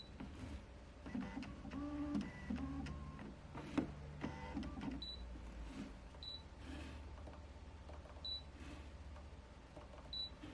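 A Canon EF-M 32mm F1.4 lens and a Sigma lens focus with a quiet, close whirr and faint clicks. Short high electronic beeps recur every couple of seconds over a soft mechanical hum.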